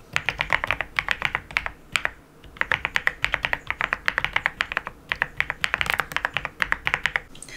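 Fast, steady typing on a custom mechanical keyboard, crisp clacky keystrokes in quick bursts with a brief pause, close and clear with no talking.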